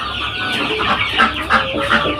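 Chickens and young chicks clucking close by, a busy overlapping chorus of short clucks and peeps at fairly loud level.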